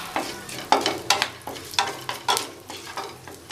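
Cardamom and fennel fry in a little oil for mushroom gravy, with a soft sizzle beneath a rhythmic series of about a dozen sharp stirring clacks against the pan.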